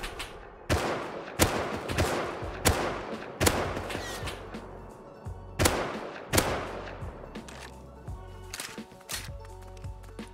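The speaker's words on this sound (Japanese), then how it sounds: "リボルバーの銃声はどっからしてんだろう。" Sharp revolver gunshots in the survival game Rust crack out one at a time at irregular intervals, about eight in all, over a low rumbling game background with no talking.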